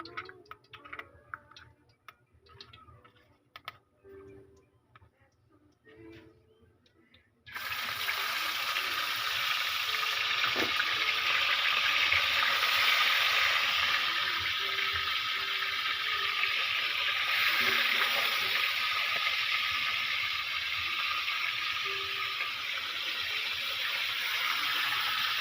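Fish dropped into hot oil in a pan sets off a sudden, loud, steady sizzle that fills the rest of the clip, after a quieter stretch of small kitchen clatter.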